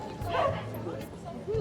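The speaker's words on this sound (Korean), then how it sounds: "여기 강아지야." A dog barks and yips briefly outdoors on a hillside walk, mid-distance, over a steady background of people chatting and ambient noise.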